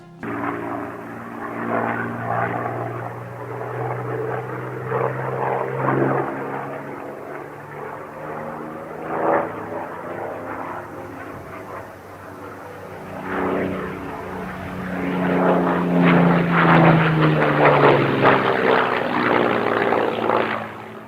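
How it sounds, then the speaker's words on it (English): A Hawker Hurricane fighter with a Rolls-Royce Merlin engine drones overhead, its propeller engine a loud sustained rumble that swells and fades as it passes, with no talk. "The Hurricane, like the Spitfire, also has a Rolls-Royce Merlin engine."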